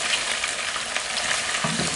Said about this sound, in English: If I need to stir fry my onion